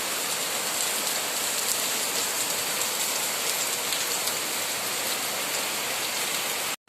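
Rain falling steadily outside a window, a dense, even hiss of drops pattering on surfaces, close and constant for the whole stretch before cutting off abruptly at the end.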